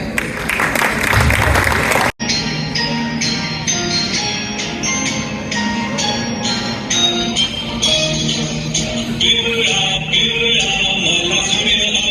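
An audience at a Marathi community Gudi Padwa stage event in the USA applauds as young Marathi school children come onstage. Steady crowd clapping runs throughout, with one brief gap and some chatter.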